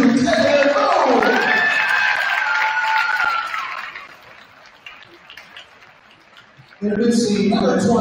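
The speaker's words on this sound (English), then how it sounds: "give a round of applause for Taylor 2, Taylor Boone!" Crowd roars with cheers and applause in a high school gym during a boys' varsity basketball game, loud for about four seconds, dropping to a low murmur, then surging again near the end, with a voice talking over it.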